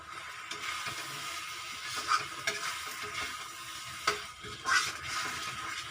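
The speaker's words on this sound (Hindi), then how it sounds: "तेल छोड़ने तक हम सारे मसालों को इसी प्रकार भूनते रहेंगे।" Spices for dum aloo, with kasuri methi, are stir-fried in oil in a pan, giving a soft, continuous sizzle broken by scraping stirs and an occasional light clink of a spoon against the pan, all fairly quiet.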